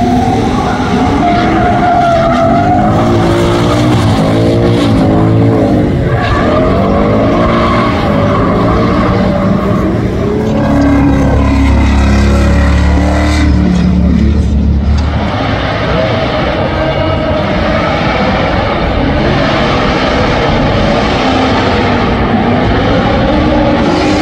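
Drift cars howl and rev as they slide around the track at Lime Rock Park, loud and continuous with tire skids and shifting engine pitch, with talk mixed in.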